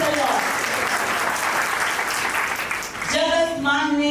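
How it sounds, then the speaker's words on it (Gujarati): A church congregation claps at an Easter Sunday service, with a long, dense wash of applause that fades out, then music and a voice come in at the end. "તાળી પાડો"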